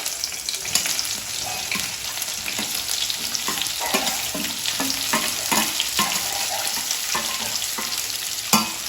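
Onions fry in hot oil with whole spices for paneer masala, a loud, steady sizzle with stirring scrapes and clatter running throughout.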